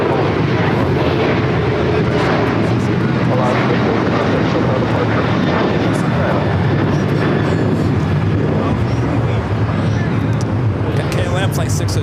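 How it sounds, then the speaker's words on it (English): A KLM jet airliner takes off from the north side of LAX, bound for Amsterdam, its loud, steady engine roar filling the whole stretch with voices underneath. "KLM Flight 602, the flight heading back to Amsterdam, taking off there on the north side."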